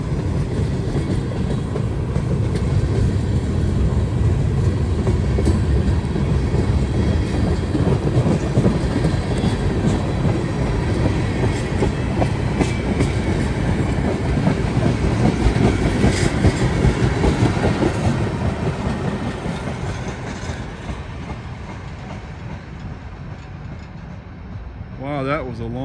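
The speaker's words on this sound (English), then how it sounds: "Front of the train just now went past the defect detector. This is a long one." A long CSX freight train rolls past close by, a continuous heavy rumble with rhythmic clickety-clack of wagon wheels over rail joints, easing slightly in loudness toward the end.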